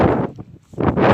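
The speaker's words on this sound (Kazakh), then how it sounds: "жақта өте қатты жел болып жатыр." Strong outdoor wind buffets the microphone in loud, rough gusts that briefly drop away in the middle before roaring back.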